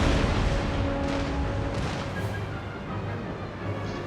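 Naval cannon fire in Empire Total War, a continuous heavy rumble of broadside booms and low explosions rolling over one another, loud and dense throughout with no speech.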